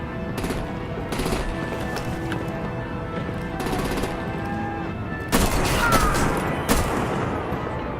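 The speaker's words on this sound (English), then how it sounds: "Break out the artillery and disable their vehicles!" Artillery and gunfire in a Batman video game: several bursts of rapid automatic fire spread through the clip, with a louder, denser barrage late on. Close and sharp over a constant rumbling backdrop, with no voices.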